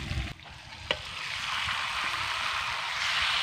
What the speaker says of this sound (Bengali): মাংসটা আমি মশলার সঙ্গে ভালো করে মিশিয়ে নিচ্ছি।